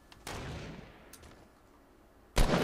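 Sniper rifle fire in Fortnite: one loud crack with a long decaying echo, a faint tail, then another sharp shot at the end.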